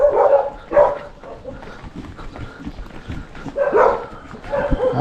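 Dogs bark in repeated bursts near a house where cabinet and ceiling work was done in Calipayan, with pauses between volleys and light background noise.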